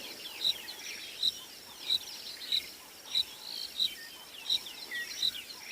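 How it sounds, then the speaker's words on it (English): Dawn on a safari: birds chirp in a regular repeating pattern, bright calls roughly every two-thirds of a second over a soft, steady bed of nocturnal crickets and other insects, fairly quiet and distant, no voices. "You can hear there are quite a few birds out. Still a few insects that are awake as well, some of the nocturnal insects like crickets."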